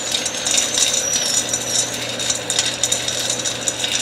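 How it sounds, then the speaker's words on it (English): A separate auger motor on a 1959 Axeman Anderson 130M sawmill drives the auger gearbox, giving a steady mechanical whir with rattling, clinking metallic chatter on top, close and fairly loud. "This is my separate auger motor that I put on here with its own switch. And it's driving the auger gearbox here."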